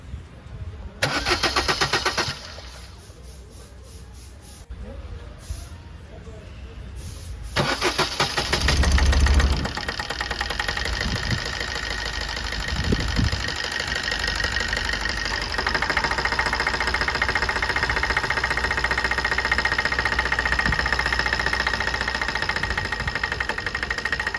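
Maruti Swift engine with a misfire fault cranking and catching after a few starter attempts, then settling into a rough, uneven idle with irregular stumbles and knocks, close and steady for a long stretch.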